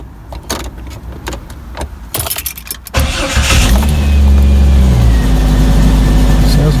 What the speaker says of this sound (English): let's give it a start. First time with those new plugs in.